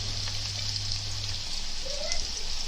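Chopped onions dropped into half a cup of hot oil in a home kitchen, giving a steady, moderately loud sizzle and crackle with a brief low hum early on.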